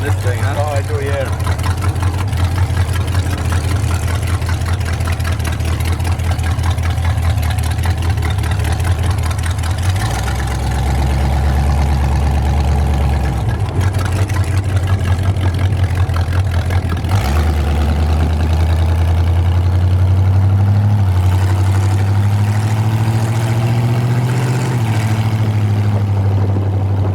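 The 355 V8 of a 1923 Ford T-bucket hot rod idles with a deep, lumpy rumble, blipped into several short revs that rise and fall, close and loud, with men chatting over it.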